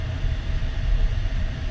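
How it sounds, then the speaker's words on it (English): A Cybertruck's air conditioning switches on inside the cabin, giving a steady, close blowing rush with a low rumble underneath that holds constant throughout. "And now it's turning on the AC."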